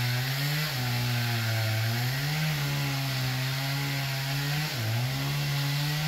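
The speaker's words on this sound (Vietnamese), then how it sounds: "máy cưa của anh Trường là máy cưa Fukawa nha các bạn" A Fukawa chainsaw cuts into a very tall mango tree near power lines, its loud, steady engine whine running throughout and dipping briefly in pitch twice as the chain bites into the wood.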